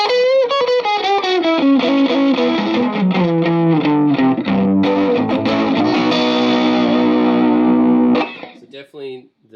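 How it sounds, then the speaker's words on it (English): Electric guitar driven through a Tube Screamer overdrive pedal on a pedalboard, playing a busy run of crunchy, saturated notes and chords for about eight seconds before cutting off, with a few brief spoken words near the end. "tube screamer colors my sound more than the other two overdrives"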